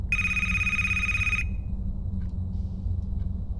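A single electronic ring burst from a cell phone in a video game library setting cuts off abruptly, leaving a steady low ambient hum.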